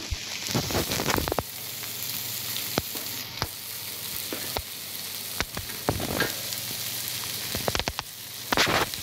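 Dried Bombay duck (bombil) chutney with salt and coriander sautéing in a pan, a steady close sizzle with scattered clicks and scrapes of stirring throughout.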